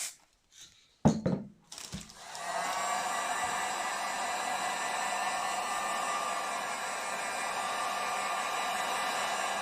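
A hot air blower dries paint layers on a refurbished Mercedes-Benz 190 E fog lens, starting with a few knocks and thumps before settling into a steady, close, hissing roar that runs without a break.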